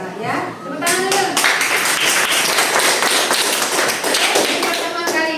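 A classroom of children claps their hands together in a dense, lively burst of taps lasting several seconds, with a few young voices chattering underneath.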